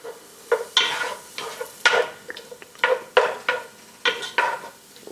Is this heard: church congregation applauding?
no